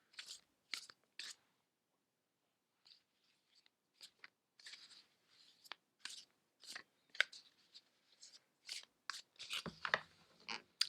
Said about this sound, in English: I'm going to shuffle the deck now